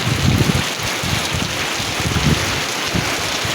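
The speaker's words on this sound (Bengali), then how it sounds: "প্রচুর বৃষ্টি হয়েছে আজকে" Heavy rain pours steadily on a cloudy day, a loud, close hiss of falling water with uneven thumps and gusts throughout.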